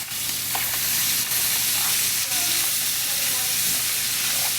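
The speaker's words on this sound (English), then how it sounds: "So let this cook and simmer for about 10-15 minutes." Lobster Américaine simmering in a pan, a close, constant sizzle and bubbling hiss with small pops and stirring scrapes, steady and loud throughout.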